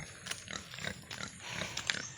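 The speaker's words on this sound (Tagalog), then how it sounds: "Ito mga baboy namin" Pigs on a rural Philippine homestead grunt softly in short irregular bursts over low background noise, faint and close.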